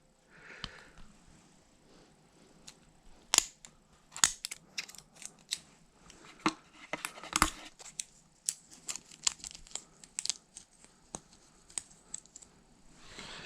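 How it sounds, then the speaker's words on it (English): Sticker being peeled off a new Samsung Galaxy A21 phone during unboxing: a run of sharp, close crinkling and tearing snaps with soft rustling between, fairly quiet and with no talking. "See if I could peel the sticker off."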